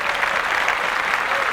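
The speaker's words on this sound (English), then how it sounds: "let's clap that up" A small group on a podcast set bursts into steady, dense clapping, loud and close, for a brief moment.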